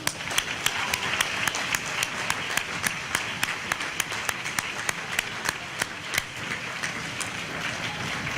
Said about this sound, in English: we got to give one more round of applause